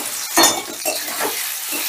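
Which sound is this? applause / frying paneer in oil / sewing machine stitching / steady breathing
frying paneer in oil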